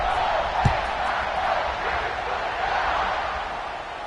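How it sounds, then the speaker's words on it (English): Stadium crowd at a college football video game roars steadily through kickoff, a broad sustained wash of cheering with one brief thump early on and no break in the noise. "Set to kick it off, and this crowd now ready to get behind them"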